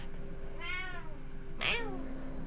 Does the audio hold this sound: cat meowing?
yes